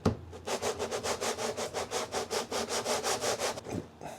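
Sanding a KZ400 motorcycle engine's mating surface with 220-grit sandpaper: a close, even back-and-forth rasp, about sixteen quick rhythmic strokes in a steady cadence, then it stops.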